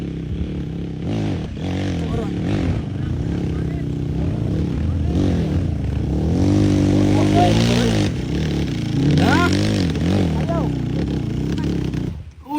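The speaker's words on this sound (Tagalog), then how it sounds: "Naingon nag-trail run, gidaga na ang iyang motor." Motorcycle on a trail run, engine revving and rising in pitch with clattering and scraping nearby, while people talk over it and the engine note swells loud in the middle before dropping off.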